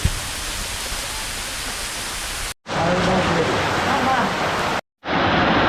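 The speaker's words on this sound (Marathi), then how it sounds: "या धबधब्यामध्ये जवळपास आत्ता पाणी एकदम भरणसाठ असते" Dhareshwar waterfall running full during the monsoon makes a loud, steady broadband roar of falling water. It plays close and unbroken apart from two brief silent cuts.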